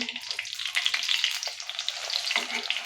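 Alu vadi, colocasia leaf rolls, fry in a pan in a little oil with a steady, close hiss, and faint scraping as the pieces are turned.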